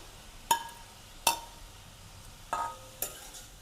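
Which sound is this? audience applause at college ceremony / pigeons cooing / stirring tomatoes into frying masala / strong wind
stirring tomatoes into frying masala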